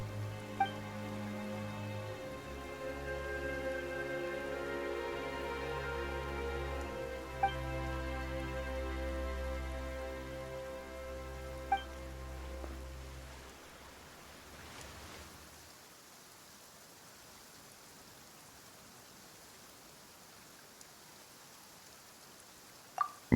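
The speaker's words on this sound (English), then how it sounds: "Why is it raining all of a sudden?" Rain falling in a Genshin Impact cutscene, a soft steady hiss of rainfall under a sustained musical backdrop that drops away midway, leaving quiet rain alone with a few faint sharp ticks.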